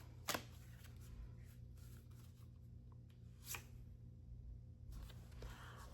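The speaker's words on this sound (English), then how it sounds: "Another good shuffle." Trope cards being shuffled in a few soft bursts of riffling, quiet and close, with low hum underneath and no talking.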